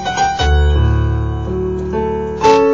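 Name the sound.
piano playing chords from As The Deer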